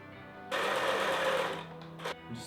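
A serger stitching patchwork fabric runs in a steady, loud mechanical whir for over a second, stops, then gives a brief short burst, all close by with no talking.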